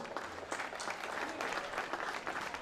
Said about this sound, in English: Please give Ryan a round of applause